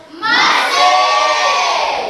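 Classroom of students cheering for a group presentation, a loud sustained burst of young voices shouting together, close and filling the room for about two seconds.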